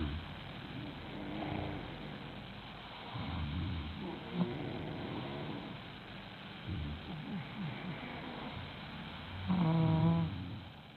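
A sleeping man snores in uneven rasping breaths that recur with pauses between them, and one loud rattling snore comes near the end, set against quiet room noise with no speech.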